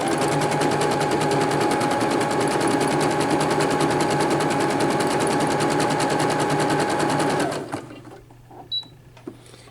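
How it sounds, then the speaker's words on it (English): A Brother PC 6000 sewing machine stitches a scalloped satin stitch in a fast, steady, close mechanical whirr for several seconds, then stops abruptly, followed by a few faint clicks. "let's do a scalloped satin stitch, and I'm going to do the stitch"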